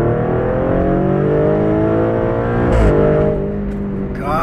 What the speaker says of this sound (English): Corsa mode, just gonna floor it.